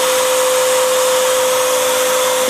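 A 3D printer runs at speed during a print, giving a loud, steady mechanical whir with a constant high-pitched hum throughout, close and unbroken, with no voices.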